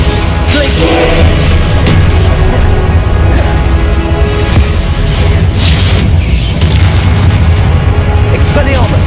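Hogwarts Legacy combat, spells fired in quick succession with deep booming blasts, bursts and crashes, loud and dense, while a voice shouts spell incantations over the action.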